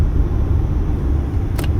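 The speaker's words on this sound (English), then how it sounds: "A lot of big, heavy truck travel." Heavy truck traffic on a road through a warehouse and industrial area along Las Vegas Boulevard near I-15, heard as a steady, loud, low rumble of passing vehicles with no break.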